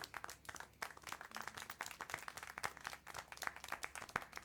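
Scattered hand clapping inside the video game Syberia: The World Before, a handful of uneven, fairly close claps at an irregular rhythm, with no voices over them.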